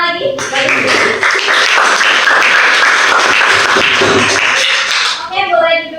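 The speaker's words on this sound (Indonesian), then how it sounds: "Oke, tepuk tangan lagi." Classroom applause after a student group's anecdote presentation, a dense burst of clapping lasting about five seconds, then fading as voices speak.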